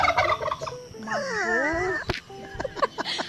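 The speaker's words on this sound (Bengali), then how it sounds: "ওই তো ব্ল্যাক টার্কি, টার্কি টার্কি ওই ব্ল্যাক টার্কি, হোয়াইট টার্কি" Black and white turkeys gobble loudly nearby on a farm, a rapid warbling rattle in the middle of the clip, surrounded by other bird calls and brief background voices.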